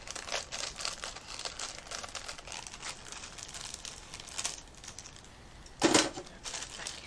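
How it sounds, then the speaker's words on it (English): Cooking scissors snip and crinkle the plastic of a cake mix package in quick, close rustling bursts, with one sharper cut or rip near the end. "So we're going to start off by opening up the cake mix."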